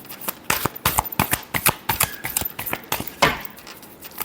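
Tarot cards being shuffled by hand, a rapid run of crisp riffling snaps and slaps in uneven bursts, close and fairly loud with no voices.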